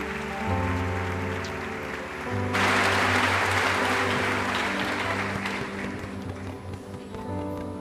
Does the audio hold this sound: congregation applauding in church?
yes